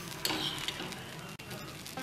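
Corn patwadi frying in hot oil while being flipped in the pan, a steady close sizzle with small stirring scrapes and a brief clatter near the end.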